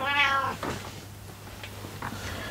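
A cat lets out a loud, drawn-out meow up close, followed by softer, shorter chirps and mews against a faint background hum.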